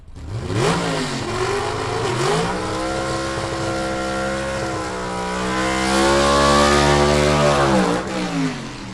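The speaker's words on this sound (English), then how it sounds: "Ted Mcke with a long smoky burnout right there" A B-gas drag racing car, the Rocky Top, does a long smoky burnout at a gasser drag strip, its engine revving loud and sustained with rising and falling pitch for the whole stretch, close and unbroken.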